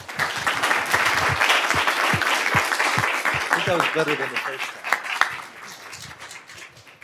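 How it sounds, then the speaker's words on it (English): Audience applause for the panelists at an education summit session, a loud sustained wash of clapping that thins toward the end while a voice speaks briefly over it. "Please give our panelists a round of applause."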